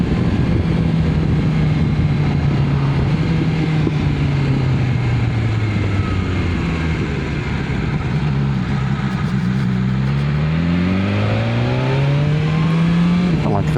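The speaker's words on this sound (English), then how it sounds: "when you open the bike up, it sounds awesome" A BMW S1000XR sport-touring motorcycle, 170 bhp, pulls hard at full throttle on an open road, its engine note climbing and falling through repeated loud revving sweeps, with a rolling tone under steady wind rush.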